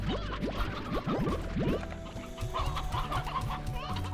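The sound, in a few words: chickens clucking in Slime Rancher video game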